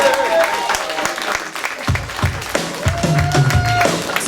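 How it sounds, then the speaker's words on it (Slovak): A concert audience at an album launch show in Košice claps in scattered, uneven bursts, fairly loud and close, while someone speaks over the clapping and a short tonal sound rises in the background. "potlesk pre vás, naozaj ďakujeme."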